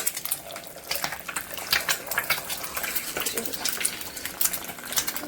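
An egg sizzles in hot oil in a wok, a steady crackling hiss with scattered metallic clinks of a utensil stirring against the pan, close and moderately loud.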